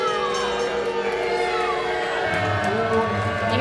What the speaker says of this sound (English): You hear the boos from the crowd